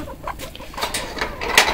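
Chickens cluck softly in and around a backyard coop with a new ladder, a few short scattered calls over faint rustling and background noise, fairly close.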